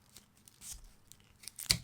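Multitool scissors snip through soft paper, producing a few faint, short tearing and crinkling cuts that end in one sharper snip, heard close up with no talking.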